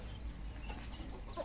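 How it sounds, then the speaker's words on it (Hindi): Young chickens let out of their coop into the soil of a garden cluck softly and faintly in the background, under a steady low outdoor rumble. "ये नन्हे मन्ने मुर्गी भी खोल दी है बाहर, ये मिट्टी में आ गए हैं जी"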